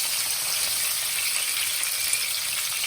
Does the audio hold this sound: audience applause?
no